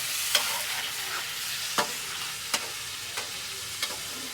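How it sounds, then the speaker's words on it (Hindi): Chicken pieces stirred as they fry in ghee in a steel pot: a steady bright sizzle throughout, cut by about five sharp scraping knocks of the spoon against the metal, close and fairly loud, no voices. "चिकन आप लोगों ने डाल के इसको अच्छे तरीके से हिला लेना।"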